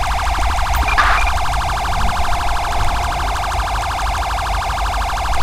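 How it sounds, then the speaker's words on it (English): Police car siren in the GTA V LSPDFR game, wailing loudly and continuously with a steady cycling pitch throughout, no talk over it. "just shut off your siren, for God's sake"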